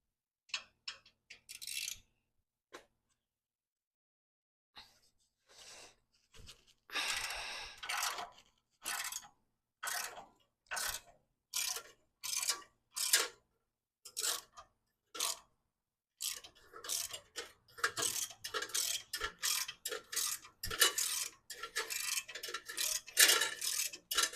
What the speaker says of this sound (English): I'm going to need to get my 9/16 socket to get this ground bolt off.